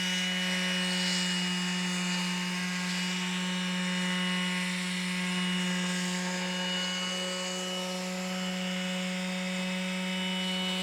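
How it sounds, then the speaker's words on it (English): A Skil PowerCore 12v detail sander runs steadily on wood with little pressure, giving off a constant close-up whine with a high, droning hum and no pauses. "I'm not putting any pressure on the sander, just letting it kind of do its thing"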